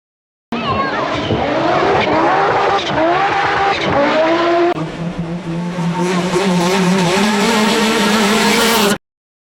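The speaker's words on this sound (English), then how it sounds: "Audi Quattro S1." Audi Quattro S1 rally car engine roaring at full throttle, revving up and down through gear changes with tire squeal, loud and continuous for about eight seconds before stopping abruptly.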